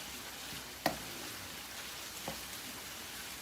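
Pasta sauce being stirred into fried Italian sausage in a pan, a quiet continuous sizzle with one sharp clink of a utensil and a softer second knock.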